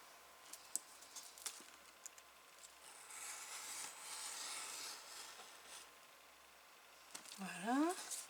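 A craft knife cuts paper along a pencil line while making a seed-holder album with a pop-up page: a few light clicks, then a soft, steady scraping cut lasting a couple of seconds, with a brief voice at the end.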